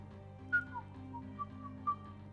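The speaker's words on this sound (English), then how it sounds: "Are you whistling?" A character whistles in the Mass Effect video game, a soft short melodic tune of a few separate notes over a low steady background hum.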